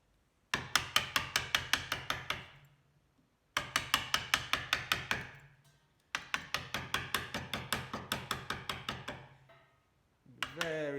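A sharp chisel driven into wood to scoop out a spline slot in an octagonal table top joint: three runs of rapid, evenly spaced knocking strikes, each run around two seconds long, separated by short pauses, close and clear.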